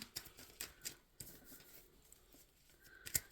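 Tarot cards are shuffled by hand, with soft papery riffles and sharp card snaps scattered over a few seconds, quiet and close, with no talking.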